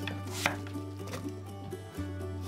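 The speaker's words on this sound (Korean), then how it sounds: "남은 4분의 1개는 작게 썰어서 믹서기에 담아줍니다" Knife chopping cabbage and apple on a cutting board for fresh kimchi, a quick run of sharp, close taps over a steady low hum, with no voices.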